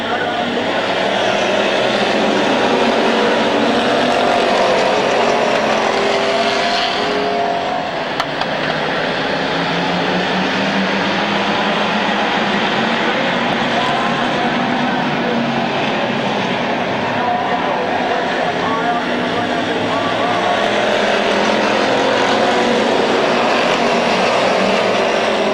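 Race cars circle the Midvale Speedway oval, a dense, sustained engine roar washing through the whole stretch with swelling and fading rumble as traffic bunches into the turn.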